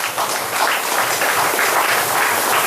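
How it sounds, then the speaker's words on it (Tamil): An audience applauds throughout, a dense and steady wash of clapping at a fairly close distance with no break. "கைத்தட்டுங்களை பார்ப்போம்."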